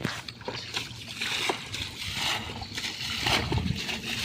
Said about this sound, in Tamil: இப்போ இந்த பசங்க வந்து அந்த வாளியை கொண்டு அள்ளி இறச்சி ஊற்றி நின்றுக்கிட்டு இருக்காங்க.